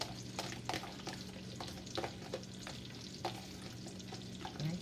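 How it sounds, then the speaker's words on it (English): Two thinly sliced sweet yellow onions fry in melting butter for a garlic butter sauce, a steady crackling sizzle broken by repeated scraping stirs of a utensil in the pan. "In the process of melting, adding all the onions. That's 2 whole yellow onions, sweet onions,"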